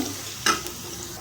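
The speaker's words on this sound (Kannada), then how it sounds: "ಸಣ್ಣದಾಗಿ ಕಟ್ ಮಾಡ್ಕೊಂಡಿರೋವಂಥ ಉಳ್ಳಾಗಡ್ಡೆ ಹಾಕ್ಕೊಂಡು ಹಸಿ ವಾಸನೆ ಹೋಗೋವರೆಗೂ ಚೆನ್ನಾಗಿ ಫ್ರೈ ಮಾಡ್ಕೊಳ್ಳೋಣ" Finely chopped onions fry in a pan with a soft, steady sizzle and one short scrape of stirring, close by, with no voices.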